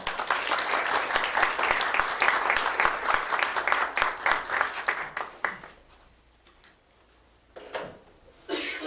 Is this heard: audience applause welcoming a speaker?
yes